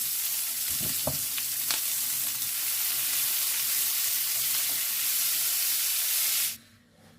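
Eggplant and chicken fillet sizzle and hiss loudly in a hot pan, with a few clinks of stirring, before the sizzling cuts off abruptly near the end.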